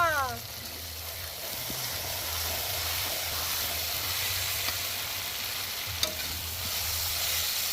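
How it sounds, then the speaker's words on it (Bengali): Chicken with chili powder, salt, tomato and potato being stirred as it fries in a pan, a steady sizzling hiss with occasional scrapes and clinks, heard alongside a faint voice. "লঙ্কা গুঁড়ি লবণ টমেটো আলু নাড়া"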